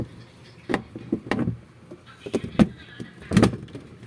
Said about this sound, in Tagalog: Pasara ng ano, pinto.